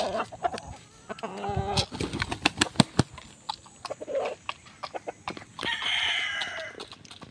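Roosters cluck and squawk close by while pecking at feed with sharp, irregular taps, and a loud crow rises near the end.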